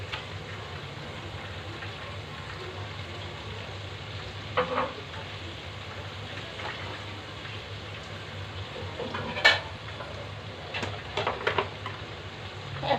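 Ginger paste and onion paste spices fry in a pan for koi fish curry with tomato, giving a steady soft sizzle broken by a few clinks and scrapes of stirring, with no talking.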